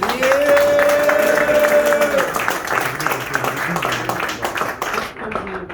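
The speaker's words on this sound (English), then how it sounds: "Give them a big round of applause, guys." A round of applause from office staff during an opening speech in a Dubai office, clapping with voices and a whoop over it, fading out near the end.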